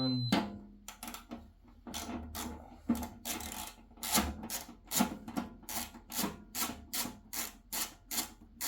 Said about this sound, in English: I got 3 bolts that hold the blower motor on. So we're just going to back these bolts out.